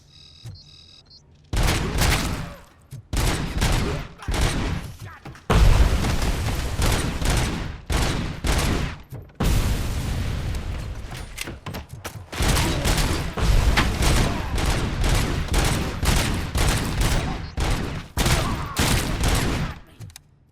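Loud gunfire in the Robocop: Rogue City video game, with dense bursts of rapid automatic shots over a steady rumble, broken by brief pauses and resuming several times.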